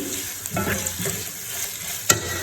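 Chowmein stir-fried in a pan over medium heat, a steady soft sizzle with scraping and stirring strokes, including a sharp clatter near the end; no talking.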